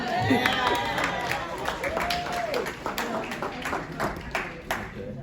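An audience at a language learning session claps and cheers in a short burst of dense applause, with crowd voices and a whoop mixed in, holding steady for a few seconds.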